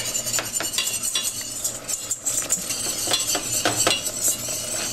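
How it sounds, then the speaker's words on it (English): Milk is stirred into a butter and flour roux in a pot, with a utensil clinking and scraping against the metal in quick, irregular strokes at close range. "I'm going to add just a little bit of the milk and stir until it's smooth."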